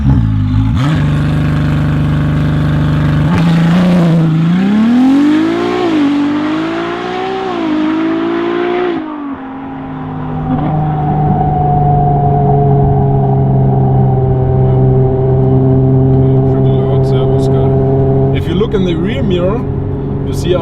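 A Ferrari 296 GTB fitted with a Novitec exhaust, driving on a snowy road, gives a loud rising and falling engine note as it accelerates and revs past close by, then settles into a steadier hum, with voices talking over it.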